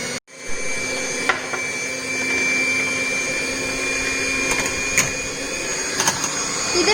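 An electric beater whips eggs for cake batter with a loud, steady motor whine and a constant buzz, starting after a brief gap at the beginning and broken only by a few small clicks.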